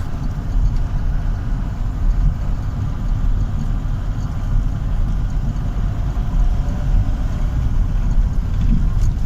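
Steady low engine rumble and road noise from inside a jeep moving through the Kalsubai forest reserve near Sandhan Valley, continuous and fairly loud throughout with a faint wind-like hiss on top.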